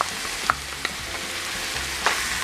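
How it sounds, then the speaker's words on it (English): Ground beef, rice and marinara sauce are stirred in a sizzling pan with a spatula, giving a continuous frying hiss broken by a few sharp scraping clicks. "give it a lovely little stirring while we add that marinara sauce"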